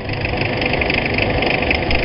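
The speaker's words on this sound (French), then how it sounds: "Un moteur qui trouble le sommeil." A car engine idles at midnight on a street in a working-class district of Dakar, a loud, steady, close rumble with no break.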